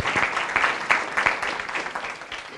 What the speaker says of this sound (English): So let's give her a round of applause for that.